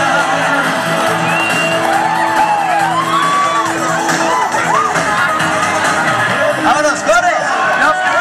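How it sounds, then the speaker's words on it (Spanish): A crowd at a firefighters' fundraiser in La Peñita de Jaltemba whoops, cheers and claps loudly and close by, with shouts rising and falling over steady babble while a voice carries on over an amplified sound system. "Fuerte el aplauso para Marshall."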